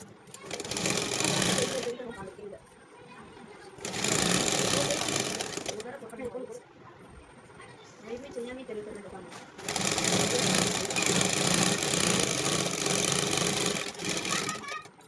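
A sewing machine stitching a plastic off-shoulder top runs in three loud steady bursts of fast mechanical whirring, with quieter pauses between where a voice talks.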